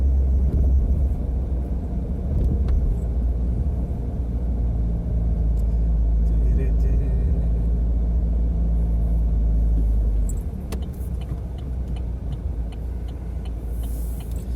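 A car drives through the narrow town streets of Guardamar del Segura, a steady close engine and road rumble from inside the car that eases slightly near the end, with no talk.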